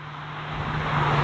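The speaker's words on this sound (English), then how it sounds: "So we're in the car driving now" A 2020 Hyundai Veloster 2.0 is heard from inside while driving: steady broadband road and engine noise with a low hum, growing slightly louder over the short stretch, with no talking.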